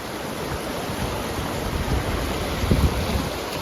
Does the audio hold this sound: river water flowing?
yes